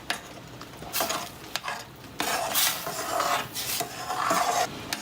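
Rice with boiling water is stirred in a pot for Mexican red rice, a spoon scraping and swishing against the metal in uneven strokes, close and fairly quiet with a faint simmer underneath.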